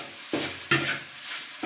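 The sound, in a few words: egg frying with okra in a pan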